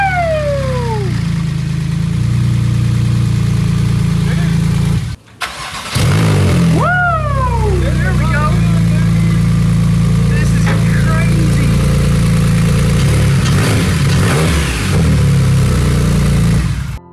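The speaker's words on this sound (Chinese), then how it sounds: "现在我们也来期待一下车子能否启动" Salvaged Porsche Turbo engine cranking and firing up, a low steady idle drone broken by a brief cutout before restarting, with a voice speaking over it and a rising whine at times.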